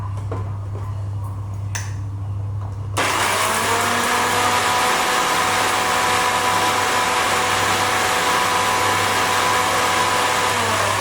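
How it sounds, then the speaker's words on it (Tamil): Mixer grinder starts up abruptly and runs steadily grinding cardamom pods, a loud, continuous whirring roar that stays close and constant after a short quiet stretch with a low electrical hum. "மிக்சியில் போட்டுட்டு வரேன்."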